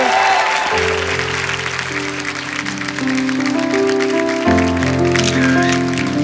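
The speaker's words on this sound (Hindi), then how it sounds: "जोरदार तालियां एक बार हो जाए" Sustained applause from a TV comedy talk show studio audience, dense and steady throughout, with music or tonal sounds running underneath.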